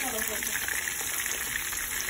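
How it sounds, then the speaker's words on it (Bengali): Tilapia fish frying in hot oil, a steady dense sizzle with crackling spatter running throughout, close and even in level. "একদম গোল্ডেন ব্রাউন করে ভাজা হয়ে যাবে"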